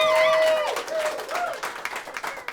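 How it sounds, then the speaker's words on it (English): A crowd at a live stand-up comedy show breaks into applause. A spoken voice opens, then dense, steady clapping fills the room and stays fairly loud to the end. "And no, don't applaud"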